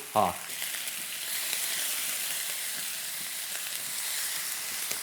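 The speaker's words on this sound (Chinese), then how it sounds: "我们再炒一炒就可以出锅了" Pineapple fried rice seasoned with fish sauce sizzles steadily as it is stir-fried in a wok, a continuous close frying hiss after one brief clatter at the start, with no talking.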